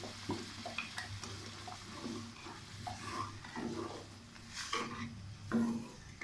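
Semolina halwa cooking in a pan, with low sizzling under repeated stirring scrapes and light clinks of a spoon against metal, fairly quiet and close.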